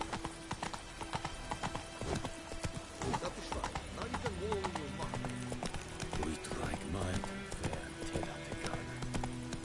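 Roach the horse trots in The Witcher 3 with steady clip-clop hoofbeats on the ground, plus a brief whinny. Someone talks over the game audio throughout.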